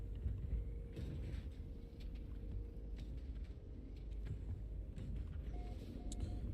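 A mineral extractor machine from the video game No Man's Sky runs steadily, giving a continuous low mechanical rumble with creaking, grinding texture and faint clicks, close and fairly loud throughout without talk.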